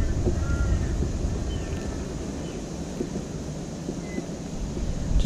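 Steady outdoor wind buffeting the microphone with a low rushing roar, continuous and fairly loud throughout with no talking.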